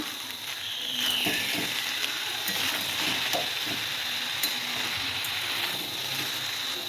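Boiled rice tipped into a hot pan for fried rice, giving a steady close sizzle with scattered stirring scrapes and clinks, no talk.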